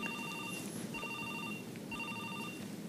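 A telephone rings in a German courtroom: three bursts of an electronic trilling ring at a steady rhythm, moderately quiet against the room's background hum, with no one speaking.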